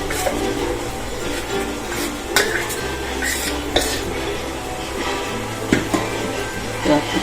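Dhokla batter of chana dal and rice spread across a metal plate, with repeated metallic scrapes and clinks of a spoon against the plate over a low background hum.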